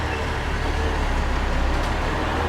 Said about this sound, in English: Got another cement truck coming into the area